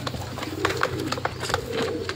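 Pigeons just unpacked from a parcel coo in soft, repeated low calls, close by, with a few gentle rustles between the coos and no talking over them.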